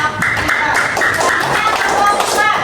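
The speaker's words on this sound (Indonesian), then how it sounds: "Tepuk tangan untuk kelompok 3." Quick bursts of clapping from a small group of schoolchildren in a classroom under lively chatter and voices, close and fairly loud.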